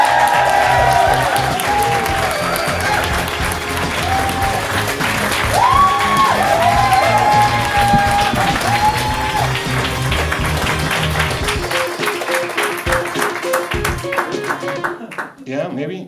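Loud audience applause at a beginners' stand-up comedy show greets a comedian walking on stage, steady clapping with some cheering that carries on for most of the stretch before thinning out near the end, with a host's voice over it.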